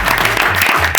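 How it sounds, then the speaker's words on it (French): A small group of sales trainees bursts into applause for themselves, a brief, loud and dense patter of clapping close by, with a low voice briefly murmuring beneath it. "je pense que vous pouvez vous applaudir."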